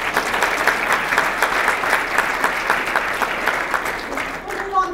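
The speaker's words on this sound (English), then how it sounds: "Let's have a collective round of applause for this." A room of attendees at an affordable housing summit breaks into steady applause, a dense even wash of many hands clapping that holds throughout before fading at the end.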